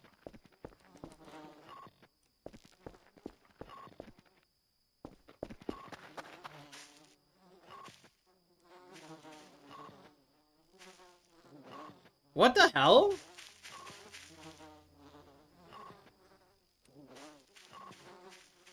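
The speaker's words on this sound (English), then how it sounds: "Why are there fly noises in here?" Buzzing of flies or bees in the video game Voices of the Void, a faint insect drone running under a man's ongoing speech, with a louder burst of noise midway.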